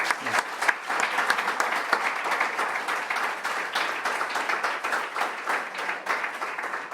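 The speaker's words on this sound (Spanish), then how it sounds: "agradecemos a Vicente y un aplauso." Audience applause at a public talk in the Cámara de Comptos: dense, steady clapping from a crowd that fills the whole stretch at an even level, with no voices over it.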